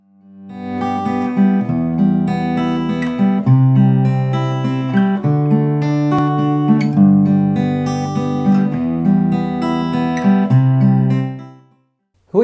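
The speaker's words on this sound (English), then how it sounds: "What you just heard there was an example of a waltzy 3/4 fingerstyle pattern." An acoustic guitar picks a waltzy 3/4 fingerstyle pattern, a lilting three-beat flow of plucked bass notes and ringing treble strings, close and loud, played alone before fading out.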